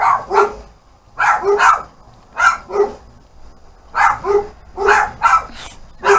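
Two dogs, one big and one little, bark loudly and close by in repeated bursts, sharp yips and deeper woofs coming in clusters with brief pauses between them.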